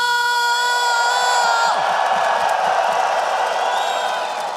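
A large arena crowd roars and cheers continuously at an esports playoff match in Astana, with whoops and yells rising over a sustained bright musical tone.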